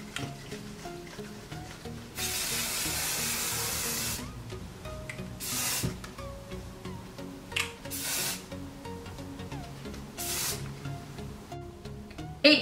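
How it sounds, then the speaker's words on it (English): Hairspray hisses onto hair in several short bursts of a second or two each, separated by pauses with soft rubbing, close to the mic. "And then hairspray will obviously hold it."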